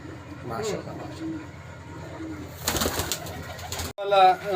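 Imported Pakistani Teddy pigeons in a loft give soft, low repeated coos, fairly close, followed by a brief burst of rustling noise near the end.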